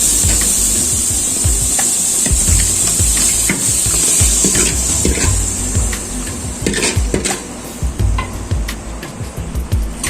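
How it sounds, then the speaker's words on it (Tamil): Marinated chicken for Hyderabadi dum biryani goes into hot oil in a pan, a steady close sizzle with scattered clinks and scrapes of a utensil against the metal, no voices. "மேரினேட் பண்ணி வச்ச சிக்கனை நம்ம இதில் போட்டு வேக வச்சிடலாம்"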